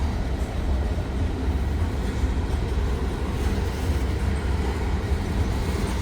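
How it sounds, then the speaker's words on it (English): Long train rolling slowly by, a continuous heavy rumble and rattle of rail cars close at hand, steady and unbroken with no voices. "But boy, this is a long train. He's moving kind of slow too"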